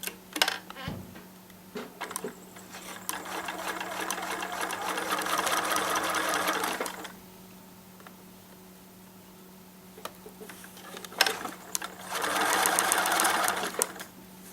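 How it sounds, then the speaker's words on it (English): A sewing machine stitches the side of a quilted mermaid tail for a newborn outfit, two long steady whirring runs separated by a quiet pause with a few clicks, close by and with no talking. "I'm sewing one of the sides on"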